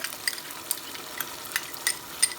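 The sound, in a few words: yogurt added to sizzling masala in a pan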